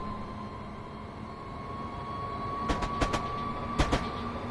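An intercity train in the Train Sim 2014 game runs with a steady low rumble and drone, a sustained tonal hum above it, and a few sharp rhythmic clacks of wheels over rail joints near the end.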